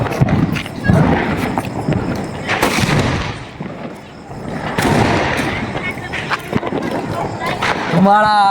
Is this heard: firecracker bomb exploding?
yes